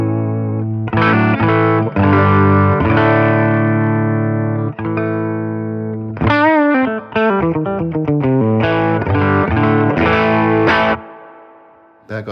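A distorted electric guitar with humbucker pickup through a Fender Tone Master Twin Reverb amplifier rings out loud chords and sustained notes, then plays choppy repeated stabs before the sound cuts away.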